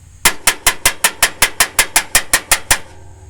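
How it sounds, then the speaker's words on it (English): Hammer striking a hydraulic lifter from a 225 slant six engine to knock it loose: thirteen sharp, evenly spaced metallic blows at a steady quick rhythm, loud and close, with nothing else heard. "I'm just going to smack it back down the other way so it's kind of loosening up"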